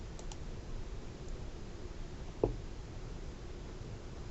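A single sharp mouse click lands alone midway through, set against a quiet steady room hum with no other activity.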